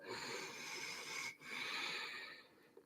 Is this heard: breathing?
yes